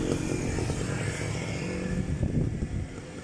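A homemade motorcycle built from an old bicycle runs with a rough, buzzing engine drone that stays steady and fairly close, rising slightly toward the end, with no voices.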